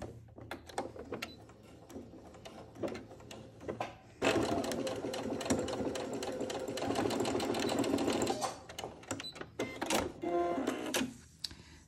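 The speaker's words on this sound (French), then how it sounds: "Je vais coudre ici à 1 cm des bords." A sewing machine stitching a fabric bag, starting with scattered short bursts and handling clicks, then a sustained fast whirring run for several seconds before stopping into more intermittent clicks and short stitching bursts.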